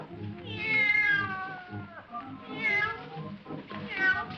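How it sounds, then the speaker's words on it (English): A cat on a stage set meows loudly three times in drawn-out, wavering cries, close and clear, each separated by a short pause. "The cat came out too soon."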